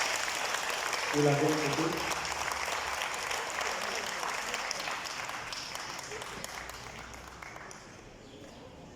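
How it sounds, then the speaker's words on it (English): Audience at an award ceremony clapping at the start, with the applause fading away gradually over several seconds while someone speaks into a microphone. "Sous vos applaudissements également."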